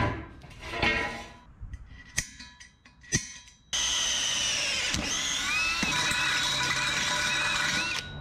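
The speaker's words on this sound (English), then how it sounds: "Drill her holes to half inch there." A few sharp metallic clanks, then a power drill starts and runs steadily with a high whining grind as it bores half-inch holes into metal on a 1977 Datsun truck, close up.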